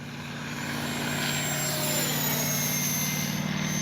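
A Freewing 80mm F-22 electric ducted-fan RC jet at full throttle gives a steady, rising high whine with a rushing roar, swelling slightly louder as it passes fairly close, with no talking.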